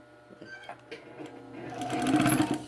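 Sewing machine stitching a fabric face mask with an aluminum nose piece, a steady whirring run that grows louder and denser toward the end, close by, with faint talk under it.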